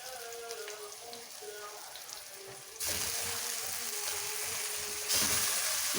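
Chicken pieces dropped into hot oil with wilted onions, a faint sizzle that jumps to a louder, dense crackling midway and swells again near the end.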